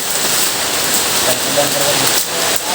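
Heavy rain pouring down in a rural provincial setting, a loud dense steady hiss of drops on surfaces filling the whole stretch without letup.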